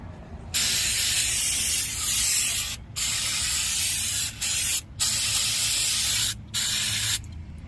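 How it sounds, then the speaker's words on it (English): Brake cleaner sprayed onto front brake parts of a 2008 Toyota Avalon, several loud hissing aerosol bursts of a second or two each with short pauses between them. "Just make sure you use the brake fluid, the brake cleaner, to just spray it up so you don't get no squeaks."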